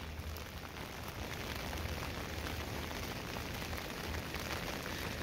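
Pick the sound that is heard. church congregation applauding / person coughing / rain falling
rain falling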